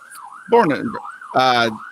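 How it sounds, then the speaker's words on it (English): An ambulance siren sound effect wails in a rising and falling pattern, with two louder harsh blasts layered over the sweeping tone. "That is the ambulance that's going to be coming for the Houston defense"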